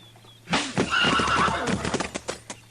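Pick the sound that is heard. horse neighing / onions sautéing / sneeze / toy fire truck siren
horse neighing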